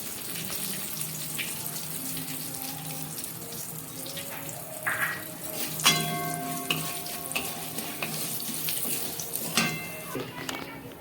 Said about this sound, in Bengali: এই তেলের মধ্যে আমি দিয়ে দিলাম 2টো তেজপাতা, 3-4টে শুকনো লঙ্কা,